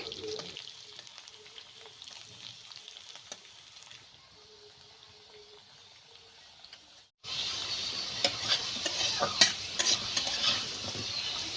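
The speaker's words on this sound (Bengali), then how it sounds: "আলুটা লাল লাল করে ভেজে নিচ্ছি।" Potatoes frying in oil, a low sizzle broken by soft scraping stirs, which swells partway through into a loud, steady hiss of frying that carries on to the end.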